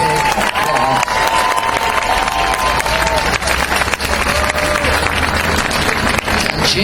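A large outdoor audience at Pioneer Square in Portland, Oregon claps loudly and steadily after a speech, a dense, close patter of hands with scattered cheers and whistles mixed in.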